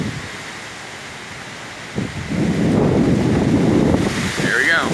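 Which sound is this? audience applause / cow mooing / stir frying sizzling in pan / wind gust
wind gust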